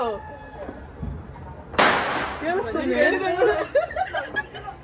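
At a New Year's midnight celebration at home, a single sharp firecracker bang cracks out, followed by people chattering and laughing.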